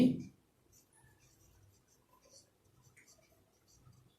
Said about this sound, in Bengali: ওই যে তিনটি লিখে দিচ্ছি